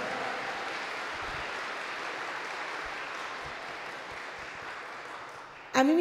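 A concert crowd claps steadily in sustained applause that fills the room at moderate loudness, then fades slightly before a voice and music come in at the very end.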